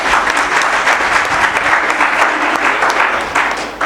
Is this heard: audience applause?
yes